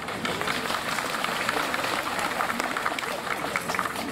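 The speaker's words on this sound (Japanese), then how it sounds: "拍手をいただいて" Steady, fairly faint applause from an audience at a shrine Setsubun bean-throwing ceremony, a continuous patter of many hands lasting throughout without a break.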